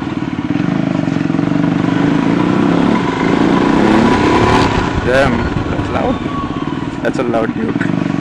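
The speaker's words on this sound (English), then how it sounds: "That's a loud duke." A loud Duke motorcycle engine runs up close and continuously, rough and throbbing, while a rider's voice talks over it.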